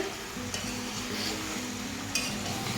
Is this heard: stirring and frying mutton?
yes